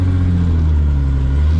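Toyota Supra with a TH400 transmission driving, a steady low engine drone and road rumble heard from inside the car, loud and continuous without talk.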